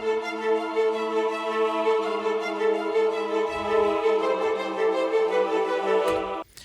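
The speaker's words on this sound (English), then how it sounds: "those strings and the choir sound like this together" Sustained orchestral strings and a wordless choir from Project Sam's The Free Orchestra swell together in a steady, full chord pad that holds evenly throughout and cuts off abruptly near the end.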